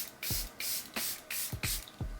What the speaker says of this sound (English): I have the Airbrush Flawless Setting Spray from Charlotte Tilbury. Let's give it a good mist down.